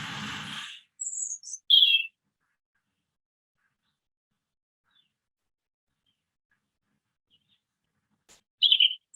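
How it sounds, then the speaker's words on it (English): A few short bird chirps in Oxford sound at the start and again near the end, separated by a long stretch of near silence. "those are birds in Oxford"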